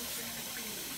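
Tap water runs steadily into a kitchen sink while dishes are rinsed, a continuous close splashing hiss filling the whole moment with no voices.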